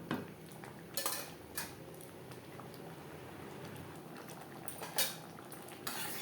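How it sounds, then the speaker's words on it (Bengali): Masoor lentils with ridge gourd and green chillies stirred in a pan, with a spoon clinking and scraping against the metal in irregular taps over a faint simmering bubble, quiet and close. "ডাল ও চিচিঙ্গার সাথে কাঁচা লঙ্কা মিক্সড করে দেবো। 1-2 মিনিট নাড়াচাড়া করে নেওয়ার পর"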